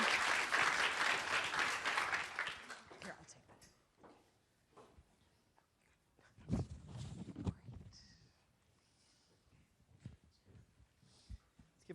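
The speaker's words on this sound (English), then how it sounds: "Give another round of applause for all of our finalists so far." A crowd claps loudly for a few seconds, then the applause fades into scattered claps, shuffling and murmuring.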